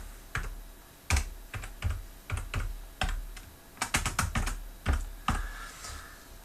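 A name is typed on a computer keyboard in short, uneven bursts of close, crisp key clicks with brief pauses between them, and no voices.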